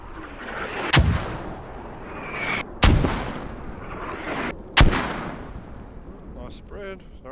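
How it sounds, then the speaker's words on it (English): Artillery shells landing in the video game Squad: three loud, sharp booming impacts spaced about two seconds apart, each with a rumbling tail, followed by fainter distant rumble. "you've got shells in flight. And we'll hear them as they come down"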